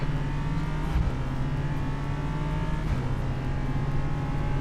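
Prototype race cars running at a track during evening practice, a steady droning engine hum with faint rising whine and a couple of soft thumps, heard from a distance without talk.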